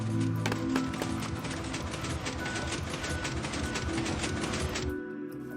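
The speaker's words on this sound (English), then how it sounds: "We see that the flying machine goes off as soon as we do this" In Minecraft, a piston flying machine set off by a placed observer moves with a fast, steady run of mechanical clicks and clunks for several seconds before it cuts off abruptly.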